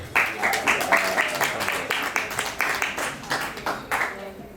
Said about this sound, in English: a round of applause for Chisomo